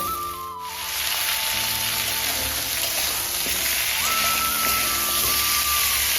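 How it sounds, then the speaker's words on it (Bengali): Potatoes fry with lightly browned onions in a pan, giving a continuous bright sizzling hiss that holds steady and close for the whole stretch, with music running beneath and no speech. "এটাকেও আমি এক মিনিটের মতো ভাজবো"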